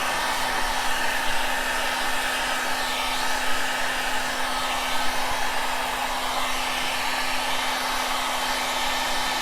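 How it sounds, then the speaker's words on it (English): A heat gun blows steadily while XPEL protection film is applied to a Tesla Model 3 headlight, making a loud, close, continuous airy roar with a constant motor hum and no talk. "Always keep your heat gun moving, never stop in one position."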